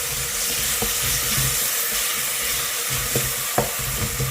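Ginger being stirred into onions sautéed until reddish in a pan, a steady broadband sizzle with scattered utensil scrapes and taps against the pan, close and continuous, no voices.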